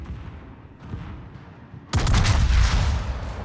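A naval gun salvo fires in World of Warships during a Tirpitz battle: a quiet lull, then a sudden heavy burst of booming gunfire that stays loud and rumbling to the end.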